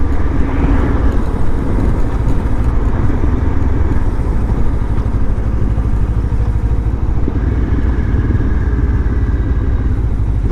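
A Lifan KPT 400 motorcycle fitted with a 43-tooth rear sprocket pulling through a gear without downshifting, its engine a loud, steady drone with rushing wind throughout.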